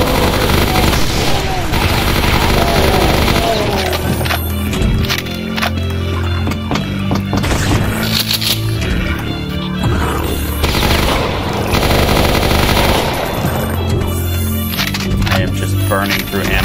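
Dual Uzis firing in a Doom mod of The Ultimate Doom, with dense rapid-fire bursts, booming shots and explosions running continuously and loudly throughout while someone talks over the action.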